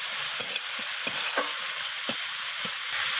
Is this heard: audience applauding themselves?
no